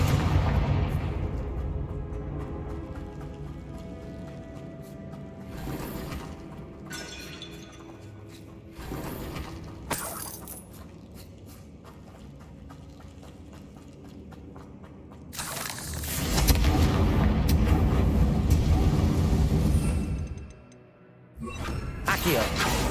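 Blasting-spell explosions from the Hogwarts Legacy game crack out in several loud bursts with shattering debris, separated by quieter stretches of game ambience, and a long roaring blast near the end.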